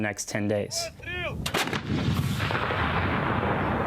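A few short voiced sounds, then a heavy blast from an M777 howitzer followed by a long rumbling roar that slowly fades.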